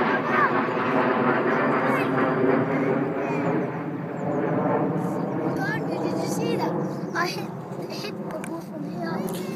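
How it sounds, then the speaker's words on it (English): A low, steady engine drone hums throughout like a plane passing overhead on a golf course, while people talk over it. "Hammer, aeroplane."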